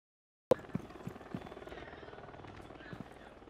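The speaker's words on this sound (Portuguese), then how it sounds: "Preparando o drone de choque. Drone a todo vapor." A shock drone in a tactical shooter video game starts with a sharp click, then a steady low mechanical whir with rhythmic rotor-like pulses hums close by, with no talk.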